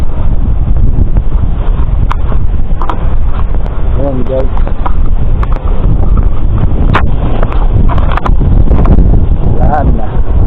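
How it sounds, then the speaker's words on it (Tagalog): Strong wind buffeting a GoPro camera up high, a loud, continuous rumbling roar of wind noise on the microphone throughout, with someone talking over it at times. "Ayan o, malakas ang hangin dito sa taas."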